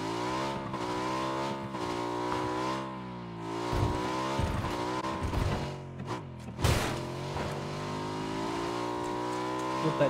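A car drives in the video game PUBG, its engine humming steadily at close range and revving up and down, with a couple of brief bumps partway through.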